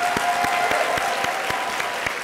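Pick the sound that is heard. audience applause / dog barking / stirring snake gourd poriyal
audience applause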